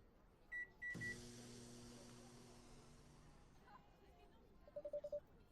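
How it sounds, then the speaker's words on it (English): A café coffee machine starts with a quiet beeping, then a loud humming mechanical drone begins and runs steadily, slowly fading, before a short series of rapid electronic beeps near the end. "The coffee machine works."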